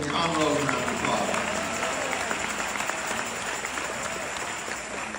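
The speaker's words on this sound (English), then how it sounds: "Give Aunt Rose a round of applause." Audience applause at a church in Miami Gardens, dense, steady clapping from a crowd filling the room, loudest at the start and slowly fading.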